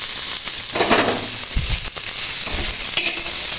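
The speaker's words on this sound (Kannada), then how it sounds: "ಅಂದರೆ ಐಲಿಂದ ಹುರಿದ್ರೆ ತುಂಬ ಎಣ್ಣೆಯಲ್ಲಿ ಬೆಂದು ತುಂಬ ಚೆನ್ನಾಗಾಗುತ್ತೆ ಇದು" Bitter gourd fries in oil in a pan, with a loud, continuous close sizzle and a few soft stirring scrapes and knocks, and no voices.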